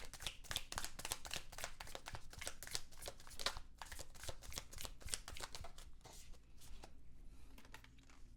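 Tarot cards riffle and slap together in quick repeated bursts of crisp, close shuffling, then the motion slows and thins out toward the end.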